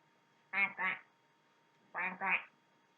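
A human voice imitates a duckling quacking, two pairs of nasal quacks close to the microphone with a pause between them.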